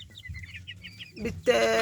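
Native hens kept in a small space cluck in a quick run of soft calls, then one hen lets out a loud, drawn-out squawk close by.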